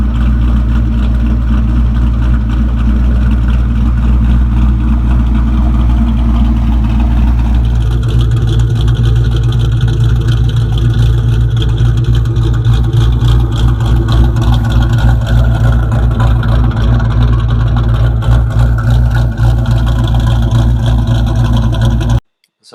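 A 2001 Ford Mustang Bullitt's engine drones steadily and loudly while driving, with a deep low rumble whose tone shifts after about eight seconds, cutting off abruptly at the end.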